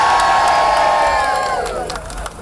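An outdoor crowd at a charity women's evening walk in Bournemouth cheers and whoops loudly as a sustained roar of voices that fades slightly toward the end.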